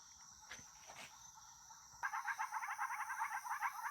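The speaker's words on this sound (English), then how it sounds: "let's go to the frogs so you can hear the sounds of the countryside here" Night chorus of frogs and insects in the Costa Rican countryside, a faint steady high insect trill with soft rhythmic croaking swelling in midway, distant and continuous outside a garage.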